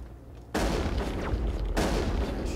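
Two heavy blasts from a shotgun in Mass Effect during a Geth attack on Feros, each a loud broadband burst with a sustained rumbling tail, the first about half a second in and the second near the midpoint.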